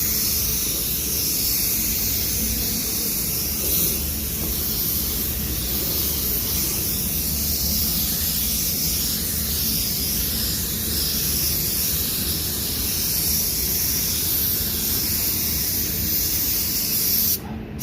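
A spray gun lays solid black paint onto the side panel of a car, giving a steady, loud, continuous hiss that holds unbroken for most of the stretch and then stops abruptly at the end.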